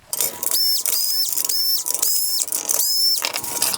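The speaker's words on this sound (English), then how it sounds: "Next, I'll remove the T20 screws from the top of this to get access to the LEDs underneath this" A power screwdriver backs T20 screws out of a 2011-2014 Audi A8 LED headlight assembly, five close, whirring bursts in a steady rhythm over a bright mechanical hiss.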